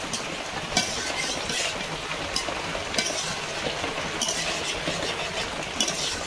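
Prawns frying in gravy with banana stem in a pan, stirred steadily: a constant close sizzle and crackle, broken by periodic clacks of the spoon against the pan.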